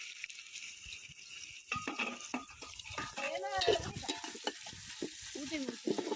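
Onions fry and sizzle in a pan while a utensil stirs and scrapes against the metal. The sizzling builds after a quiet start, with clatter from the stirring throughout.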